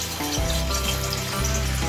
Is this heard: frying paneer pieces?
yes